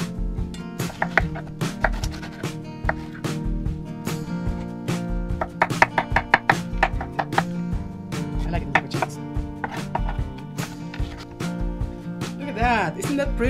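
A knife chops and slices through a whole pineapple, halving it for fried rice, with repeated crisp cutting taps close by under steady talk and background music.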